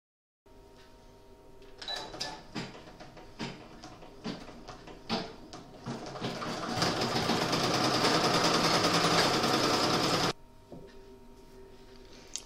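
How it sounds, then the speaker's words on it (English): Sewing machine stitching a clutch purse with purple thread, starting with a few separate clicks and short bursts, then a steady, fast mechanical whir that runs for several seconds before it stops, close and fairly quiet, with no talking. "I've got my purple thread in my machine, ready to do all the stitching for this"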